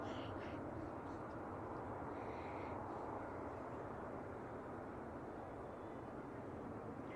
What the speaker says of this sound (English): our next arrival is going to be Qatar. Airbus A350 1000 coming in from Doha